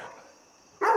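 Indoor dog gives a single short, loud bark at the very end, after a quiet stretch with faint room tone.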